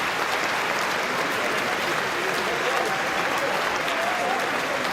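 Conference audience applauding steadily and loudly throughout, a dense wash of clapping from a large crowd at a political party gathering with no voice over it.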